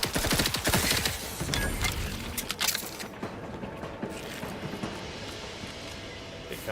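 Rapid bursts of gunfire in The Outer Worlds 2, loud and dense for the first few seconds and then thinning into scattered shots and mechanical clatter at a lower level.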